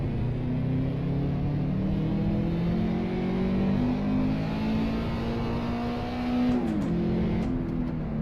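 Car engine revving in the Assetto Corsa racing game, a loud steady drone that rises and falls through gear changes, dipping and surging near the end, with no voices.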